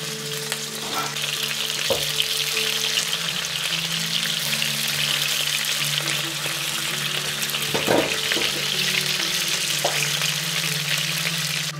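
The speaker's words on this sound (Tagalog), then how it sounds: "So mainit na yung ating kawali at yung mantika. Ilalagay na natin itong ating tapa." Beef tapa frying in hot oil in a pan, a loud, dense, continuous sizzle with occasional pops and scraping clinks, heard close up with no talking.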